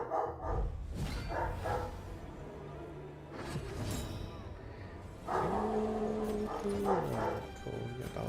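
Dogs in Darkest Dungeon 2, several sharp barks and yips among game sounds with low tonal music, moderately close, rising in bursts across the stretch.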